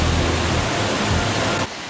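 A waterfall pours into a pool with a dense, loud, constant rush of falling water that cuts off abruptly near the end.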